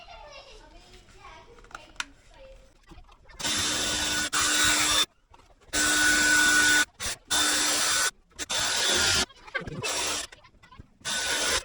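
Drilling out rivets on a Mondeo ST220 chassis, a power drill whirring in loud repeated bursts of a few seconds each, close up with short pauses between and some talk early on.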